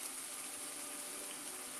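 Tap water runs steadily into a pot being filled for boiling noodles, a continuous hissing gush with no pauses, close and moderately quiet with no talking.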